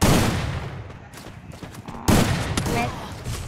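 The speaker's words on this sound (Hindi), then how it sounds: "पहला शॉट फर्स्ट ब्लड" Gunfire in a shooting video game: a loud burst of rapid shots, a brief lull with scattered reports, then another loud volley, all close and dense.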